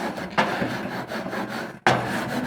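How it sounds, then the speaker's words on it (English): A wooden scraper rasps across barbecue grill grates in close, gritty strokes, with two sharp new strokes starting abruptly among the continuous rubbing. "So this is my first time using this scraper."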